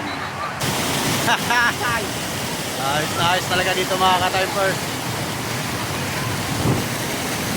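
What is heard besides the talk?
strong rushing river water at a dam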